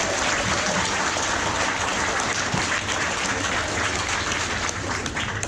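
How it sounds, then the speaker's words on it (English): Continuous, full applause from an audience gathered at a school reunion, dense and even in loudness throughout without any voices breaking through. "Give them another round of applause"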